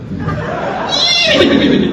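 At a live comedy show, a voice imitates a horse neighing, rising into a loud whinny-like sound halfway through.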